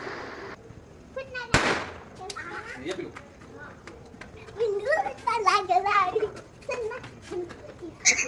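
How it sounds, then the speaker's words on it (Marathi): A single sharp bang from leftover Diwali firecrackers goes off early on, followed by children chattering and calling out nearby. "त्यानंतर पिल्ला गेले आमचे फटाके वाजवायला"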